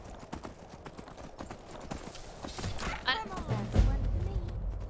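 Horse hooves clip-clop at a steady walking rhythm while riding in Skyrim Anniversary Edition, a continuous close patter with soft game ambience and a louder thump near the end.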